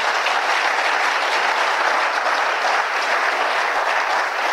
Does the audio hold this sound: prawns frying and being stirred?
no